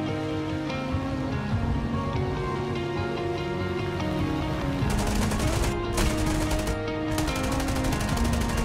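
P-38 fighter machine guns firing in War Thunder, steady rapid chatter over a constant engine drone, growing brighter and more intense in bursts during the latter half.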